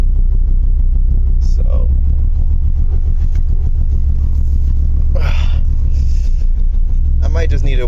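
A 1975 Mercedes-Benz 300D diesel drones steadily while driving, its loud low rumble continuous throughout with faint squeaks and a brief voice over it.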